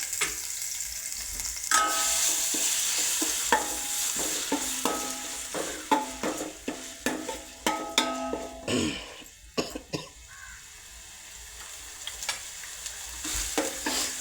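Chicken curry sizzles in a pan while a spoon stirs it, with a run of scraping knocks and clinks near the middle, a cough or two breaking in.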